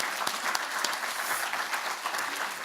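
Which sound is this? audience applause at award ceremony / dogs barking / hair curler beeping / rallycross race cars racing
audience applause at award ceremony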